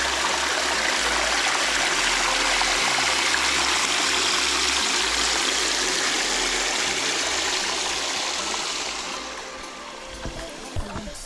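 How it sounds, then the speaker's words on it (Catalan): Water rushes steadily over a wooden weir built of timber planks on a mountain stream trail, a loud, continuous broadband roar close by that eases slightly toward the end. "Aquesta és el que li diuen la resclosa, feta amb fustes i barrejant aigua."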